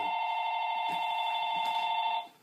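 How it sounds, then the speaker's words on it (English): A telephone rings with a steady electronic warble for about two seconds, loud and close, then cuts off, with faint background noise underneath. "Hopefully my wife will pick up the phone."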